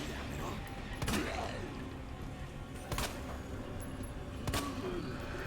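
Three separate gunshots in the Resident Evil 2 remake, each a sharp crack standing out above a steady low game rumble, spaced a second or two apart.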